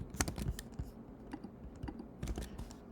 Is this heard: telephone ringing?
no